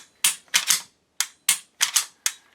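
Dry-firing and resetting a Canik TTI Combat pistol trigger gives a series of sharp, close metallic clicks in uneven pairs and singles, about seven in all, with silence between and no talking.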